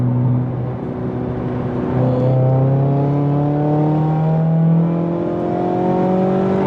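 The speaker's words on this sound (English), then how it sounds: "Let's just probably do a third gear pull." A car engine pulls hard in third gear, its loud rising tone climbing steadily in pitch after a brief dip, heard close from inside the car with no speech.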